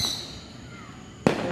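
A Fourth of July firework gives off a thin, high whistle that fades out, followed about a second later by a sudden loud broadband burst.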